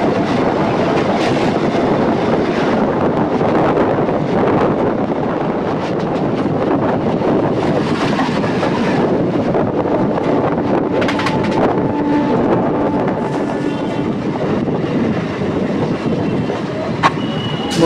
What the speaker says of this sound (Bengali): পাশে দিল্লি হাওড়া দুরন্ত এক্সপ্রেস প্রবল গতিবেগ নিয়ে আমাদের এই লোকাল ট্রেনকে ওভারটেক করে পাশ দিয়ে